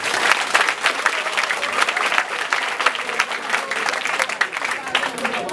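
Audience at a third-anniversary community celebration breaks into steady, dense applause, many hands clapping continuously and fairly loud throughout, with some voices mixed in.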